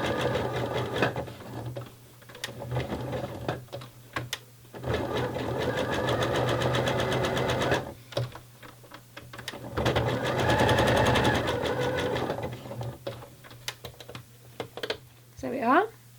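Sewing machine stitching lace onto a bra, running in steady close whirring bursts broken by brief stops where the work is pivoted with the needle down, while someone talks over it.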